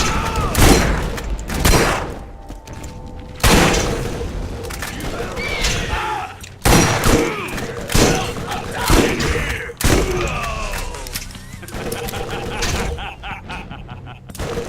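An incendiary Carnage gun fires in Borderlands, producing a string of heavy, loud blasts and thuds spaced a second or two apart, with burning crackle and voices in between.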